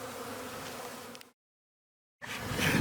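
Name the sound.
honeybees buzzing at an apiary hive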